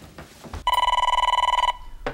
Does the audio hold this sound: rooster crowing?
no